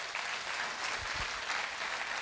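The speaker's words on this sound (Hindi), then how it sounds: "हम चाहेंगे जोरदार ताली हो जाए" An audience at a leadership recognition event claps steadily and fairly loudly throughout, a dense wash of applause with no talk over it.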